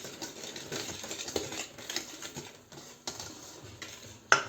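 A utensil stirs a mixture with oil added in a bowl while making croissant-style rolls, giving soft, uneven scraping and clinking close by, ending in one sharp tap.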